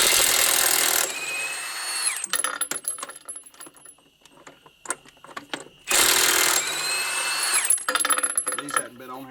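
A Milwaukee 2767 high-torque half-inch impact wrench working rusted lug nuts on a semi truck wheel: two loud, harsh hammering bursts of a few seconds each, separated by clanks and rattles of metal, close up with no talking.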